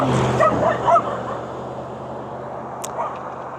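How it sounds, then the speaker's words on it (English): A dog close by along a rural back road barks and yips a few times in quick succession at a passing e-bike rider, over wind and road noise, then falls quiet. "I thought that dog was going to jump out."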